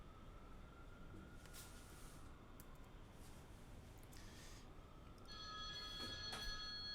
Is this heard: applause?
no